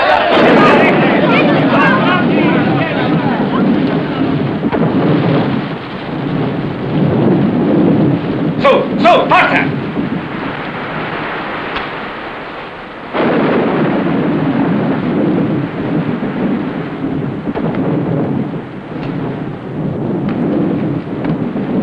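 Heavy rainstorm with rumbling thunder, a dense steady roar of rain throughout with a louder crackling burst near the middle, while people speak and call out over it.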